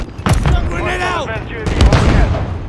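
Grenade blast in Call of Duty MW3, sharp booming bursts near the start and again midway, mixed with voices calling out over game noise.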